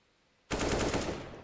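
A sudden burst of close automatic gunfire in a competitive shooter match cuts in after a quiet moment and keeps rattling loudly to the end.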